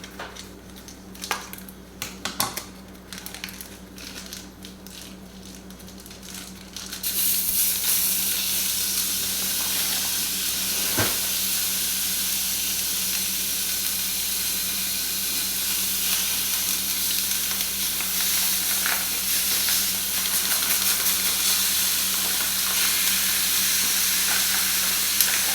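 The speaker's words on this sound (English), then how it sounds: "we've got our cast iron pan heating up, and we're going to put in 2 pounds of ground beef" Ground beef with onion and garlic in a cast iron skillet, a few clanks and scrapes at first, then a loud, steady sizzle that fills the rest of the clip, close and continuous with no talking.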